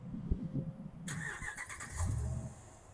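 A 2011 Dodge Ram 1500 Longhorn Laramie pickup engine cranks and catches through remote start, heard as a sudden burst of starter and engine noise that settles into a faint idle hum, recorded close but quiet.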